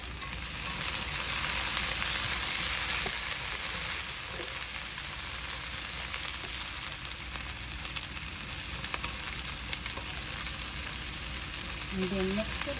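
Onions brown in a pan with a continuous, loud sizzle up close, soft stirring scrapes underneath and a couple of light utensil clinks near the end.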